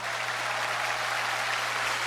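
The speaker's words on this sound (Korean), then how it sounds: "여러분 뜨거운 박수로 맞아주세요." A church congregation at a Sunday service claps warmly to welcome a poet, with steady, even applause filling the room and no voices.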